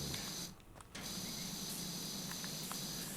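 A pressure washer sprays steadily in PowerWash Simulator while wooden trims are being cleaned, giving a continuous loud hiss that cuts out briefly near the start before resuming, with no talking over it.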